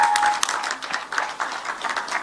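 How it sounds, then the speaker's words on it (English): Audience applause at the launch of a pan-African greentech and digital skilling initiative attended by President Ruto, moderately loud clapping of uneven density throughout. "Another round of applause for His Excellency"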